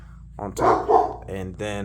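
Anatolian shepherd dog gives a couple of loud, close barks and yips in a short burst, mixed with someone talking over it during a DIY pellet stove hopper build.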